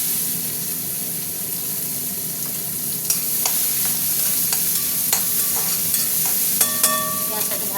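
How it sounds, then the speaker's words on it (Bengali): Onions fry in a pan with a dried red chilli and five-spice tempering, a loud, steady close sizzle, joined partway through by clinks and scrapes of a spatula against the pan. "পেঁয়াজটা একটু ভাজা ভাজা হোক।"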